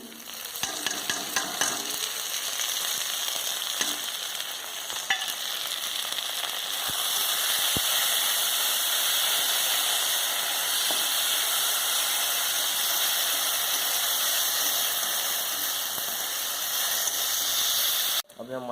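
Ginger garlic paste sizzles and fries steadily in hot oil with bay leaf for a crab curry, a loud continuous hiss with occasional stirring clinks throughout.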